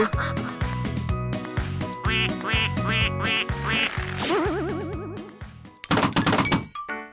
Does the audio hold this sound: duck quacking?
yes